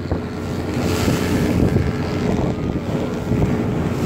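A speedboat engine drones under strong wind buffeting and splashing waves on a banana boat ride at Boracay, a loud continuous rush that fills the whole stretch.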